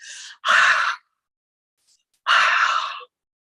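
A voice imitates Darth Vader's mechanical breathing: two long, loud, raspy breaths, each preceded by a shorter one, separated by a pause of near-silence.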